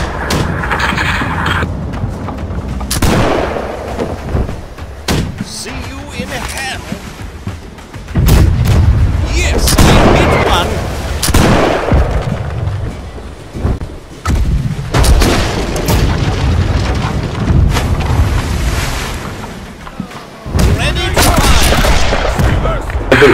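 Ship cannons firing in the Blackwake naval combat game, heavy booming blasts landing one after another, loud and close, with shouted voices over the gunfire.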